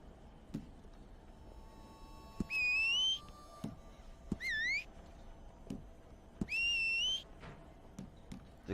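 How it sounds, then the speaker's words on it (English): In Red Dead Redemption 2 Online, three rising whistle calls sound in turn, each about half a second to a second long, over a faint background with scattered soft taps. "Whistle, okay."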